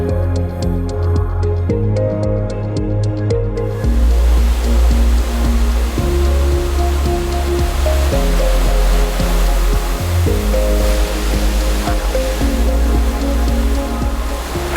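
Small waterfalls tumble down a creek beside the VIA Rail Canadian route between Jasper and Vancouver, giving a steady broadband rush of water that swells after a few quiet seconds, mixed with a prominent music bed.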